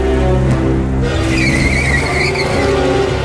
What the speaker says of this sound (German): Ein Auto fuhr Pollyanna an